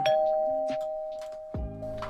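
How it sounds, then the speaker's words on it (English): Two-tone ding-dong chime, a clean doorbell-like alert, sounding once with a sustained ringing tone and a second lower note near the end, clear and isolated. "And you'll get a nice ding dong when it is exported."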